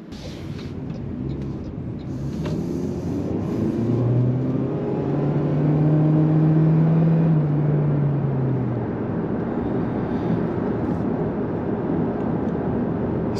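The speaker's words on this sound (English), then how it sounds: "then you hear the engine, you don't hear the engine, and the engine is quite loud." Engine of a new Toyota Prius hybrid with a CVT, a steady loud drone from inside the cabin that rises in pitch mid-way and then settles back, with no shifting steps.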